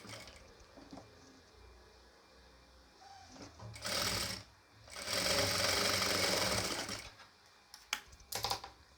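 A sewing machine stitches a nighty in short bursts: a brief run, a pause, then a longer steady whirring run, followed by quick clicks and handling taps, fairly quiet and close.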